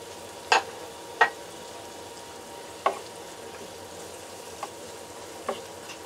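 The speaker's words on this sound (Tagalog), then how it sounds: "pwede na natin siya igisa sa isang tabi" Onions sautéing in a pan beside frying tilapia fillets, a steady faint sizzle with a few sharp clicks of a utensil against the pan, no talking.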